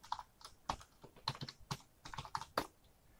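Keys on a computer keyboard are tapped up close in quick, uneven bursts of crisp clicks, with no voices over them.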